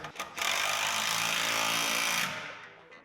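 A power wrench drives 2 1/2-inch bolts on an overland gear hauler trailer build, giving one loud, sustained mechanical burst of about two seconds that then winds down and fades.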